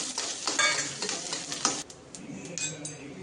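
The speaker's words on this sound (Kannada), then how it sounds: "ಈಗ ಉದ್ದಿನಬೇಳೆ ಹಾಕ್ಕೊತಾ ಇದ್ದೀನಿ ಈ ಟೈಮಲ್ಲಿ ಒಂದೆರಡು ಮೆಣಸಿಕಾಯಿ ಮತ್ತು ಕರಿಬೇವು ಹಾಕ್ಕೊತಾ ಇದ್ದೀನಿ" Urad dal, green chillies and curry leaves sizzle and crackle in hot oil in a home kitchen, a steady close frying hiss with sharp pops and stirring scrapes, no talking.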